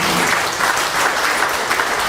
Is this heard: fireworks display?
no